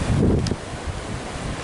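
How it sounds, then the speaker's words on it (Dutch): Wind blowing outdoors at a Moroccan seaside spot at sunset, a steady close rumbling buffet against the microphone that is strongest in the first half second and then settles into a continuous lower roar, with no talk. "Ja, er is wat wind."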